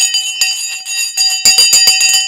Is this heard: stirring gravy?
no